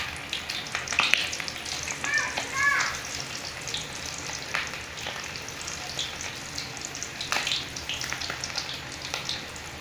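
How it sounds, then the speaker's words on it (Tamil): Quail pieces fry steadily in hot oil in a home kitchen, making a soft, continuous sizzle with occasional crackles and pops, close by and moderately quiet. "அதை சேர்த்திக்கோங்க. நல்லா பொரிச்சு எடுத்துக்கலாம்."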